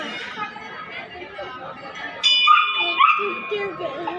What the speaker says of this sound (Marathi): डॉगी